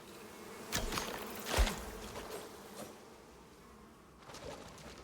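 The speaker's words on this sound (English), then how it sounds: "There's bees here we need to take care of." Bees drone and buzz in the survival game Icarus, a close insect hum that swells as they fly past, peaks sharply, then fades and rises again, alone with no talking.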